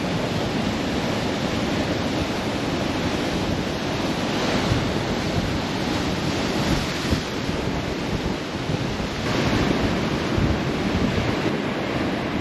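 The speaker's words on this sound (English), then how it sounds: "the waves are coming in, crashing in" Ocean waves crash and roll onto the shore near Cape Town in a constant roar, with gusting wind buffeting the microphone throughout.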